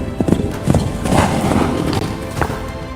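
Horses' hooves clip-clopping on hard ground in Kentucky, a steady broken rhythm of close thuds with a faint whinny, over constant outdoor background noise and no talk.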